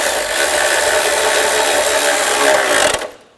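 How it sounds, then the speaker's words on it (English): A wrench tightening the 10mm bolts on the lower exhaust manifold cover of a 2007-2013 Mini Cooper makes a loud, continuous rasping, grinding whir held close for about three seconds, then fades out. "Now we'll tighten those bolts down."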